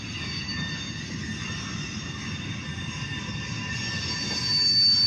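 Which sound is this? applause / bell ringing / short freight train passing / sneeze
short freight train passing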